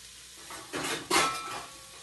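A metal pot lid set down on a pan of cooking vegetables in a school kitchen, giving two short, close clattering clanks over a faint sizzle.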